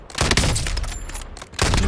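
Gunfire in the video game Warzone, a loud dense burst of shots that keeps up for most of the stretch, breaks off briefly and then resumes.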